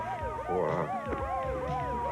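Several wailing ambulance sirens rise and fall over one another, loud and overlapping, with a busy, rumbling background.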